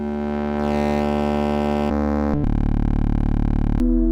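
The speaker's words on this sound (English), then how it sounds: "it's going to be more hollow, metallic, almost like a bell sounding thing" Serum 2 synthesizer with ring modulation, a hollow, metallic, bell-like sustained tone that shifts pitch in a few abrupt steps and picks up a buzzing pulse toward the end, loud and alone.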